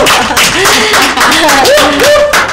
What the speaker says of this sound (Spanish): Y vamos a, darle un aplauso.